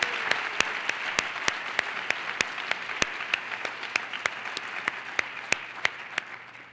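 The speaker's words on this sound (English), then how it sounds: "Let's give one more round of applause to all of our contestants in the talent category." An audience applauds after the talent category at a junior pageant preliminary night, with sharp, evenly spaced claps cracking out over a soft bed of crowd clapping.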